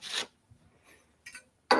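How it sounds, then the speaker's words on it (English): Hand sanding a wooden Valentine's heart, producing three short raspy scrubbing bursts separated by brief pauses, close and fairly loud with no talk. "Sanding."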